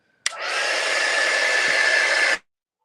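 A hair dryer blows on a watercolour landscape painting, a loud steady whir that switches on abruptly, runs for about two seconds, and cuts off, with no talk.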